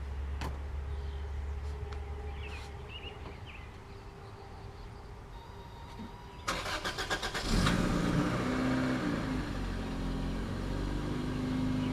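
A Toyota MR2 cold-starts in a garage: a brief cranking burst, then the engine catches and settles into a steady, fairly loud idle with no talking.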